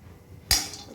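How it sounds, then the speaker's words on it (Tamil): Almonds, cardamom pods and nutmeg tipped into a dry pan for roasting land with one sudden clattering rattle midway, fading into a light scraping hiss. "இது 3த்தையும் போட்டு வறுத்துக்க போகிறேன்."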